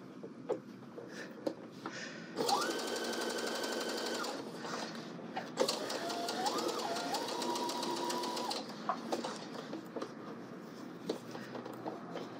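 A sewing machine stitches fabric for a Know Me ME2058 pattern in a steady whirring run of several seconds, close by, with softer handling clicks and fabric rustle before and after.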